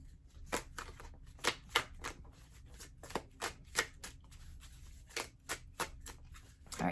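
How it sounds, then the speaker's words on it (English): A deck of tarot cards is shuffled close up, a series of crisp riffling snaps and flicks coming in irregular bursts, about a dozen sharp strikes, with no talking. "We're going to shuffle."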